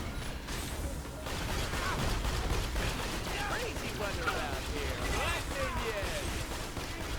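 Pistol fire in Borderlands The Pre-Sequel: a rapid run of shots and impact effects over busy game noise, with someone talking over the action.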